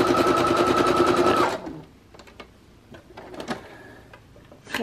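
Brother Project Runway CE1100PRW home sewing machine running a decorative stitch: a fast, even mechanical chatter for about a second and a half, then stopping, followed by faint handling clicks and small knocks.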